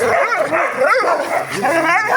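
Young rescued puppies bark, yelp and whimper in rapid overlapping bursts close by, a loud, continuous chorus of high, wavering cries.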